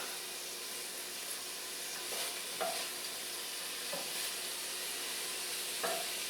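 Shrimp frying in a pan alongside pesto vegetables, a soft continuous sizzle with a few light utensil clicks, fairly quiet and without speech.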